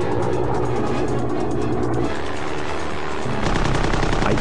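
Rapid machine gun fire from a Zero fighter aimed at a Grumman Wildcat in flight, a dense continuous rattle of shots that pauses briefly and then resumes louder, with no talk.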